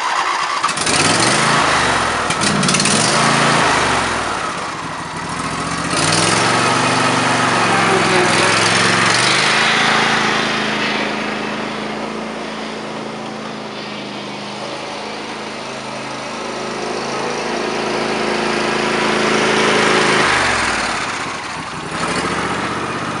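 A John Deere D125 garden tractor engine runs steadily after a throttle replacement, a loud continuous drone that rises and falls slightly in pitch as the throttle is worked.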